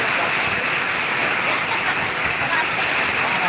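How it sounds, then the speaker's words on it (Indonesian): Steady heavy rain pours down in a dense, continuous hiss, close and loud, with no pauses throughout, in Lembar. "Baru nyampe langsung diguyur hujan"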